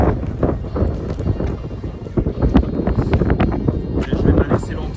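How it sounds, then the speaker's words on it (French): A strong headwind buffets the microphone on the Old Course golf links at St Andrews, a loud ragged roar throughout, with a person talking over it. "donc il y a un très gros vent contre"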